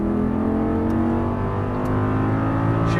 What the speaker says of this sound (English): start unwinding and go on the throttle and full throttle again